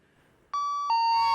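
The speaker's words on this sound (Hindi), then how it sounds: "घंटी बजाओ" An electronic doorbell rings on a comedy stage set, two clear sustained chime tones sounding loud and close after a quiet moment.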